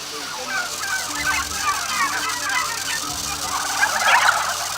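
Flock of turkeys gobbling continuously inside a farm shed, a dense, overlapping chorus of calls at steady moderate loudness, with one nearer gobble rising out of the mass near the end.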